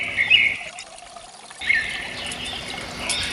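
Spring water on a farm trickling and pouring steadily, a soft continuous flow with brief dips and faint bird calls in the background.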